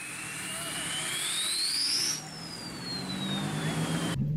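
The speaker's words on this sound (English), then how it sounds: "Everybody here is running some sort of exhaust modification, obviously, and there will be a lot of noise." Mitsubishi 3000GT sports cars with modified exhausts at a 2023 Upper Midwest car meet. An engine's whine climbs steadily in pitch, then drops away, over a constant loud outdoor roar.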